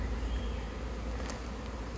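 A swarm of bees drones steadily around a hive box, a dense, continuous buzz that stays even throughout with no voices.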